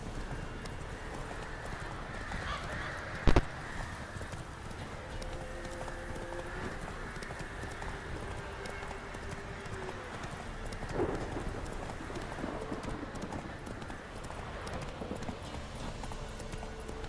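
Horse hooves clip-clop at a steady gait in The Witcher 3, a continuous rhythmic patter under ambient game sound with a brief loud thump and a faint whinny, moderately quiet overall.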